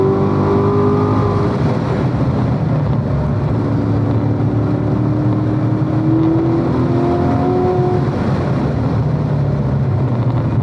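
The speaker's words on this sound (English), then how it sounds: "We were almost full throttle going through that corner." Race car on a road course in an SCCA session at AutoBahn South, engine held near full throttle through a corner; a loud, continuous droning roar with shifting pitch, heard close from inside the car and with no talking.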